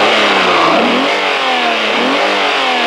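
Transverse 2.5-litre V6 of a 1992 Alfa Romeo 155 with 166 horsepower, revving loudly and close, its engine note rising and falling in two sweeping pulls with no talking over it.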